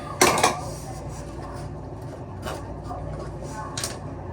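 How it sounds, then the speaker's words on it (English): A half-inch fitting brush scrubs inside a Symmons faucet valve body during a spindle replacement, giving a burst of close, loud bristly metallic scraping at the start, then softer intermittent rubs and clinks. "we'll take our fitting brush, stick it in there"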